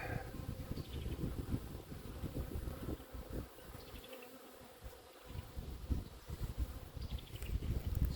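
Honey bees buzz at close range around a plastic insulated beehive, a dense, steady drone with individual bees flying past the microphone and brief quieter lulls.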